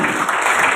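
An audience claps at a Maharana Pratap birth anniversary event in Udaipur, a brief burst of dense steady applause, loud and close.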